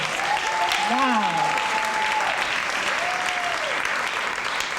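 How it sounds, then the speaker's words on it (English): Steady applause from an audience at a 50th birthday celebration fills the whole stretch, loud and continuous, while a presenter speaks over it and a short exclamation rises from the hall. "Give him another round of applause."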